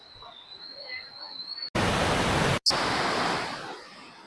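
At Adoshi waterfall in the monsoon, a roar of rushing water bursts in abruptly after a quiet stretch with a thin high whine, holds loud and steady, briefly cuts out, then fades.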